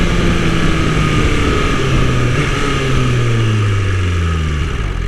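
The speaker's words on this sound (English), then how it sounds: "I'm addicted to that downshifting." A 2020 BMW S1000RR M sportbike engine running loud and close, repeated revving rises and falling pitch sweeps as it downshifts, continuous with no voices.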